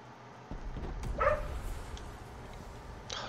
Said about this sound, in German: dieser Hund, der bellt auch manchmal einfach so.